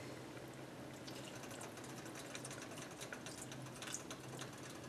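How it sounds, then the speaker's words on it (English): Apple cider poured from a container into a soup pot of butternut apple soup, a faint steady liquid pour with light splashing for several seconds. "Now I'll pour in some apple cider."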